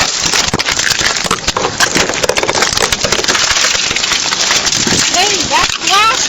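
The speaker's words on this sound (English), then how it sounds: "Okay, break the window and take her out." Police smash a car's window glass, a dense, loud burst of crunching and shattering with scattered debris, mixed with shouting voices.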